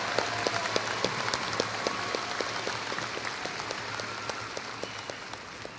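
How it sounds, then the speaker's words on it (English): A large audience applauding at a high school graduation ceremony, steady continuous clapping heard from a distance in a big hall, fairly soft and even throughout. "Audience, let's give them one more big round of applause."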